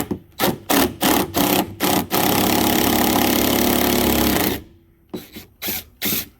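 A power gun unbolting a tailgate lift prop: a few short bursts, then a sustained whir of about four seconds, then more short bursts, loud and close with no talking.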